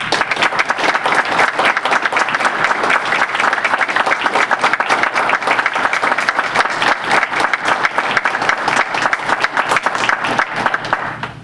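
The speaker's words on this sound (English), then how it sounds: "if you would like to join me in a round of applause" A school board meeting audience breaks into sustained, dense applause that stays steady and loud for over ten seconds, with many hands clapping at once and no voices on top.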